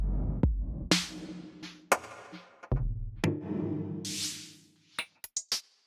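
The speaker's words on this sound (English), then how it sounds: "Starting at the top with the drums, I chose a kit from Battery called Colossus" Battery's Colossus drum kit auditioned for tech house production: a run of separate drum hits, booming low kicks, snappy snares and toms, then a quick burst of short clicky percussion at the end, played alone without talk.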